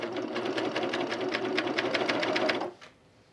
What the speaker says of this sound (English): we want to sew this seam right here